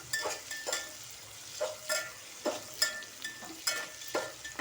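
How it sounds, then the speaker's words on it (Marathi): Onions with cumin and whole spices sautéing in a pan for chicken pulao, stirred with a utensil in soft, repeated scraping strokes over a faint steady sizzle, close and quiet, with no talk. "आता बघा कांदा परतत आला आहे"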